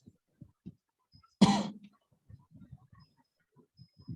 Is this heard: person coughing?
yes